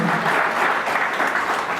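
Audience applauding at an S3S Wellness product seminar, a steady dense wash of clapping from a crowd throughout the short stretch, fairly loud and without talk.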